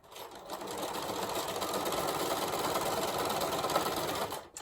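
A sewing machine runs steadily for several seconds, stitching quilt blocks together with a quarter-inch seam for a nine-patch quilt block, a close, continuous whirring hum with no pauses or talk.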